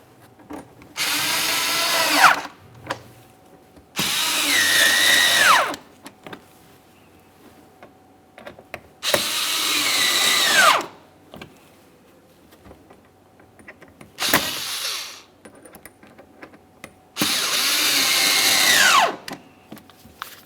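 A power drill snugs up radiator mounting screws on a 2017-2024 GMC Acadia in five separate whirring bursts, each a couple of seconds long and winding down in pitch at the end, loud and close with quiet gaps between.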